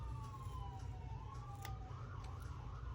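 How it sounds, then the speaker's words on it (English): Wailing emergency sirens rise and fall over a steady low traffic rumble, fairly loud and continuous, as if vehicles are passing nearby. "Oh, there's a bunch of sirens."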